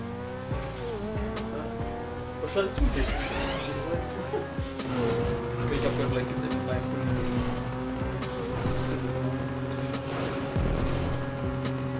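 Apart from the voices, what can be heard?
car engines racing in the video game GTA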